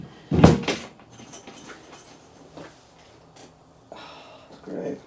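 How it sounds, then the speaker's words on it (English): The door of a Gold Rush Stampede fruit machine is put back on with a loud hollow thud and rattle near the start, followed by quieter clicks and knocks and a soft scrape at the end. "we're going to put the door back"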